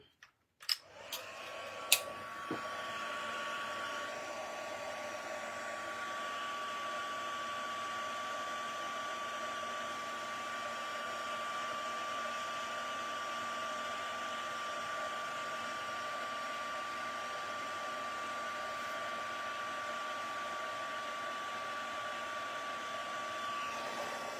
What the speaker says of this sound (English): I'm just going to pop the heat gun on.